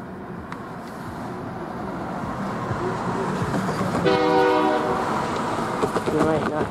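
A CN freight train rumbles past close by with a continuous roar of wheels and clatter, and its horn sounds in the latter half as a loud, harmonic blast over the rolling noise.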